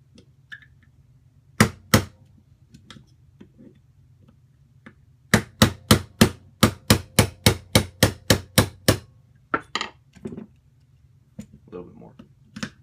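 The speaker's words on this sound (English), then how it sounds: "and a small hammer." Small hammer tapping a 3/32 punch to drive out a rear pin from an M&P pistol, first two sharp taps, then a quick steady run of about a dozen close metallic taps, followed by a few softer ones.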